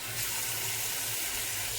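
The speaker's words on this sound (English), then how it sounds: "just a small amount of water" Steady hissing rush of a small amount of water pouring into a cooking pan of eggplant and vegetables, continuous and fairly close, with a faint low hum underneath.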